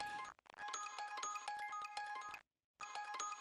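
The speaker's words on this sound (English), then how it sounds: "there's this ARP, which is a kind of like a glockenspiel type sample" A glockenspiel-type arpeggio sample from an electronic dance remix plays bright, quick repeating bell-like notes, clear and upfront, breaking off for a short gap before resuming.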